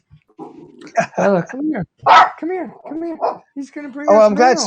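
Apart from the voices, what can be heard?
dog barking at the postman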